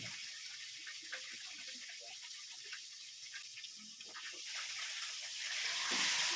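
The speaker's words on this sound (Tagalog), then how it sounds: "Guhugas muna ako sa mga hugasin" Tap water runs into a kitchen sink while dishes are washed, with small clinks and splashes scattered through a soft hiss. The flow grows louder and fuller toward the end.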